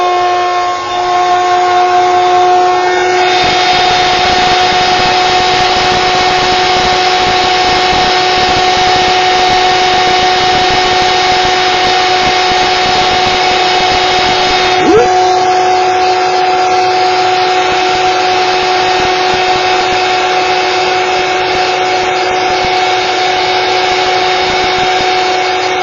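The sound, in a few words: heat gun heating embossing powder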